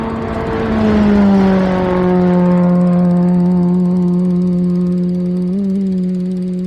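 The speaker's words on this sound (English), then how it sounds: "That is an H-blown fuel modified roadster." A supercharged fuel modified roadster races across El Mirage dry lake. A loud engine roar holds a steady tone and fades gradually, with a brief shift in pitch near the end.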